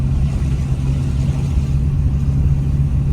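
An old ZAZ Zaporozhets car, bought in 1974, drones steadily from inside the cabin while driving in Kryvyi Rih, a loud low engine rumble with a constant hum, no talking.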